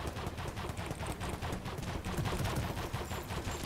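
Rapid gunfire in the Roblox game Overheat, a dense continuous burst of shots that stays loud and close throughout with no talking.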